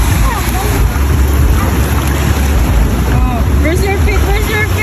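Sea waves wash along a beach, a loud, steady roar of surf mixed with wind buffeting, while voices talk faintly underneath.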